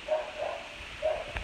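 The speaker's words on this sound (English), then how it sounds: "Oh, Libra's still barking." A pet dog barks and yips a few times at moderate distance indoors, short bursts separated by pauses.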